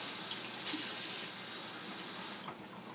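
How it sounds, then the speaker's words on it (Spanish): A little water is poured into a chile morita salsa: a steady, fairly close trickling stream runs for a couple of seconds and then stops. "Voy a agregar poquita agua aquí,"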